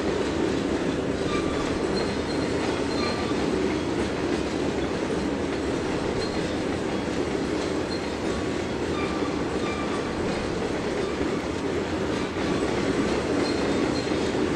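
A train rolls past in Trainz 2022, a steady, loud rumble of wagons with a continuous rail roar and faint wheel clatter throughout, no voices.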